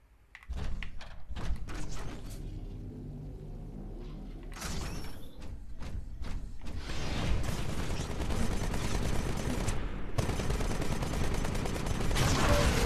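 Gunfire strikes a Titan's vortex shield in Titanfall, the shield soaking up shots before hurling them back: loud dense bursts and rattling fire mixed with heavy mechanical thunks, growing into a sustained barrage.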